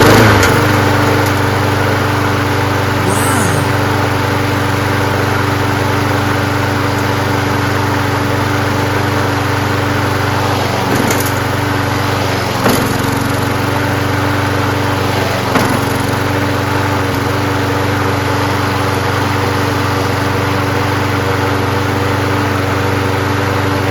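A free trash-find Craftsman self-propelled lawnmower with a 6.5HP Briggs Quantum engine, leaking gas, runs steadily on its own at close range, a constant droning hum with a few brief knocks and clatters and no talking.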